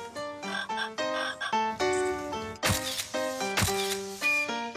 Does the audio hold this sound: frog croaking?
yes